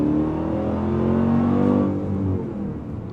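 A 2025 Dodge Durango Hellcat muscle SUV accelerates hard, its engine note rising and holding strong at close range before easing slightly near the end, with no talking.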